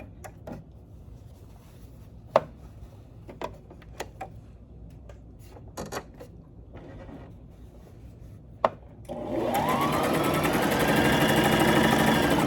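A Brother XM2701 sewing machine starts stitching after a run of light clicks and knocks, breaking into a loud, steady mechanical whir that holds for the final few seconds.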